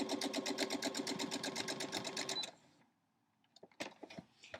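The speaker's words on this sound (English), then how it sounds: "you sew off that line just a teeny tiny bit" Sewing machine running steadily as it stitches a quilt block, a rapid even needle rhythm that stops after about two and a half seconds, followed by soft handling clicks and rustles.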